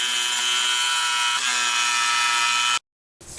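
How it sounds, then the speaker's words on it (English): A jigsaw cuts through melamine board with a loud, steady buzzing whine for nearly three seconds, then stops abruptly before a short burst of residual noise. "then we'll hit it with our jigsaw"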